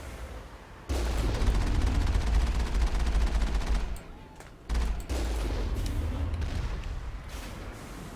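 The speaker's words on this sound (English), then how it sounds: "Stupid heavy turrets. Trying to blow up my Mako." Heavy turrets fire on the Mako rover in the Mass Effect video game, making loud sustained rumbling barrages with booms, which break off briefly and then resume.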